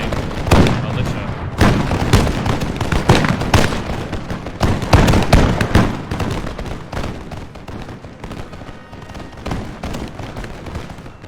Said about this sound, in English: good to know the African musketeers can fire fully